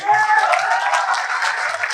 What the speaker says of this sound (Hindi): उधर है पब्लिक, ताली वाली बजा दो